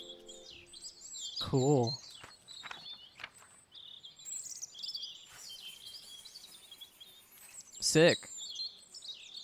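Bright chirps and tweets from birds in the botanical puzzle game Botany Manor, two louder trilled calls among scattered higher chirps, with a person briefly talking over them.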